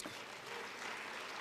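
Participants at a human rights conference in South Africa applaud themselves, a quiet but steady spread of many hands clapping across a hall, distant and soft, without speech.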